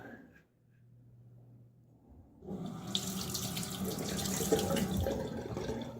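Tap water runs steadily into a bathroom sink for a quick razor rinse during a wet shave, a broad continuous splashing hiss that starts after a quiet couple of seconds and stays loud to the end.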